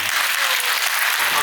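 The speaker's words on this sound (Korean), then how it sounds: "박수를 너무 많이 주셔가지고." An audience at a residents' briefing on apartment reconstruction claps in a dense, steady burst of applause filling the room, close and loud.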